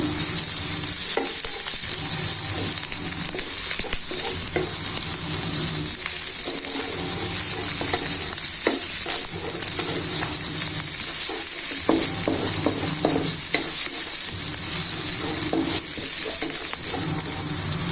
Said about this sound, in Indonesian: Ini untuk bawang merahnya saya tumis dulu